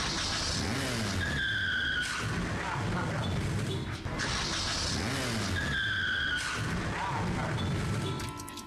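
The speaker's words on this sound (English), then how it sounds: "Loud fucking car crash," Video game car crash in Brutal Orchestra, with loud repeated tire skids and squeals followed by heavy impact booms, two similar bursts in quick succession, close and loud with no voices.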